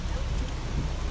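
Heavy rain pours down in Gwalior as a dense, steady hiss of water with no breaks, close and fairly loud.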